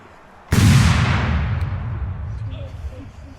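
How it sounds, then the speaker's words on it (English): A single loud, close cannon blast from artillery at a Battle of Camden reenactment in South Carolina, a sharp crack followed by a long rumbling decay, with voices faint in the background. "Now you're under constant artillery fire."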